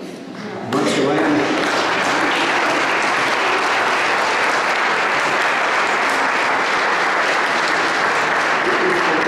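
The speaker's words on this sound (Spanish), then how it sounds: "Otro aplauso." Applause erupts at a wedding ceremony, a sudden loud burst of many hands clapping that holds steady and dense for several seconds with a few voices mixed in.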